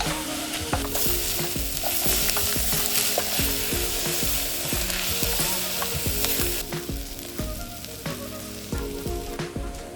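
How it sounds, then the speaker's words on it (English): Onions and garlic sautéing in a pan until caramelised: a loud, constant sizzle with rapid, busy scraping and stirring strokes all the way through. "I'm going to saute these onions and garlic up until I get some caramelization on the onions"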